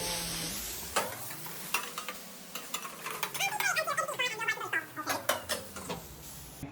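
Egg and ingredients stir-fried and scrambled in a wok during a Thai home cooking class in Chiang Mai: sharp metal scrapes and clatters over a rising sizzle, close and busy, with no voices.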